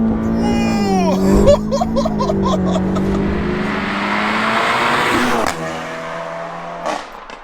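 A 475bhp Audi S3 under hard acceleration with wheels spinning, engine rising in pitch loudly up close, with excited voices and some laughter over it, then a sharp cut and quieter running.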